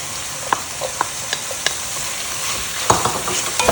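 Onions sizzle in a little oil for a shrimp tagine, a close steady hiss broken by sharp taps and scrapes of a utensil stirring the pan.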